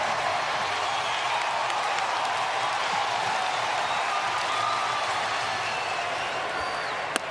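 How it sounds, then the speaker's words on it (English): Crowd roars steadily at an LSU vs. Florida College World Series finals game in Omaha after a run-scoring hit, a broad sustained wash of cheering without pause. "listen to the crowd in a 2-1 game"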